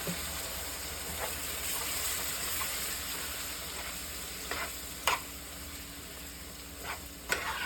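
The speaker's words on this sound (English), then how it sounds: "I'm gonna go in with a little extra balsamic vinegar." Chicken sizzling steadily in a pan as balsamic vinegar is added, a continuous close frying hiss with a few soft clinks and stirring scrapes.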